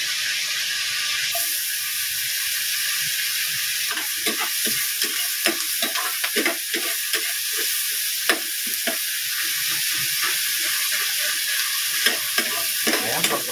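Garlic then onion frying in a pan for a grilled pork chop and mushroom gravy dish, a steady loud sizzle and hiss with repeated scraping stirs close by, almost no talk.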